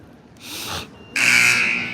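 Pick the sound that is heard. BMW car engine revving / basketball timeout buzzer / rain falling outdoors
basketball timeout buzzer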